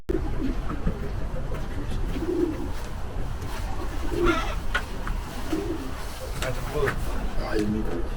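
Pigeons or doves cooing repeatedly at a train station in the Blue Mountains, Australia, their low calls recurring every second or so close by while a person talks over them.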